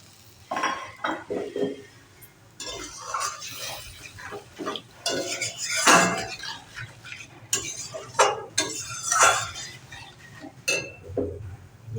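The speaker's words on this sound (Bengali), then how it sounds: "এভাবে একটু কষিয়ে নেব।" Tilapia fish curry with cauliflower being stirred and sautéed in a pan, rhythmic scraping of a spatula against the metal in repeated strokes with light clinks, close and fairly loud with no talk.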